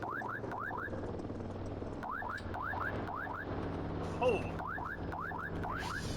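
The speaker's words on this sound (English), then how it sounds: "Does the drone alarm actually stop you from sleeping?" Drone alarm from the game Voices of the Void, a repeating pattern of short rising chirp pairs over a steady low hum, loud and regular, broken by a brief pause and a short exclaimed voice.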